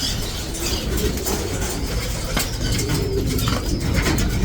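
Soft pigeon cooing over a constant, noisy outdoor background.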